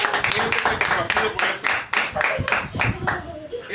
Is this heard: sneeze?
no